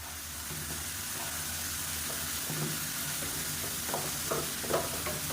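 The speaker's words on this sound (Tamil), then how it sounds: "இந்த அரைச்சி வச்சுருந்த ரசப்பொடியே இதில் சேர்க்குறோம் சேர்த்துட்டு நல்லா ஒரு ரெண்டு பரட்டு பரட்டி விட்டுக்கணும்" Ground rasam powder is sautéed with tomatoes in ghee, giving a soft steady sizzle with a few stirring scrapes toward the end, quiet and close.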